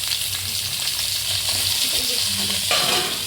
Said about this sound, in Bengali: কুমড়োগুলো ছেড়ে দিলাম